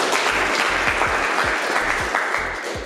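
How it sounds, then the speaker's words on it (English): Audience applause rings out at an end-of-season speech event, a steady wash of many hands clapping close and loud, holding for about three seconds with thumps in the background. "I think you guys need to give yourself a round of applause."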